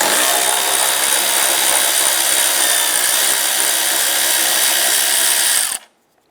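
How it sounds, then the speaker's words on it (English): A power tool with a 10mm socket loosens and removes a bolt on a 1995–2001 Ford, whirring loudly and steadily for several seconds before stopping abruptly. "let's go ahead and loosen and remove this bolt."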